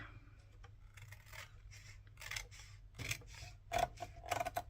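Scissors cut through a card file folder being made into a journal cover, heard as a few quiet, close snips and rustles of the stiff paper.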